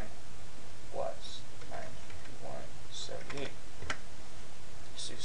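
Typing on a computer keyboard while entering race results by hand: scattered soft key clicks come through a steady hiss, with a person talking over them.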